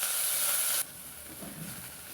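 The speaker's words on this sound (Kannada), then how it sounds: "ಈಗ ಜಜ್ಜಿಟ್ಕೊಂಡಿರುವಂತಹ ಬೆಳ್ಳುಳ್ಳಿಯನ್ನು ಹಾಕ್ತಾ ಇದ್ದೀನಿ." Crushed garlic is dropped into hot oil in a pan with curry leaves, giving a bright, loud hiss that suddenly drops to a softer, steady sizzle close by.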